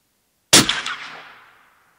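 A single sharp rifle shot fired while hunting in a Swedish forest cracks loudly after a moment of silence, then its echo rolls away and fades over about a second.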